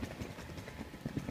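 Horse hooves clip-clopping on a Saturday morning outdoors, a quick, even rhythm of hollow knocks at moderate distance, with no talk over them.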